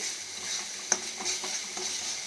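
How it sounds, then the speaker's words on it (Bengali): Onion, garlic and green chilli paste sautéing with fried crab, a steady close sizzle broken by a sharp spoon knock and several light stirring scrapes. "পেঁয়াজ আর হচ্ছে রসুন আর কাঁচা লঙ্কা বাটা আছে ঠিক আছে এটা একটুখানি আমি কষে নিচ্ছি"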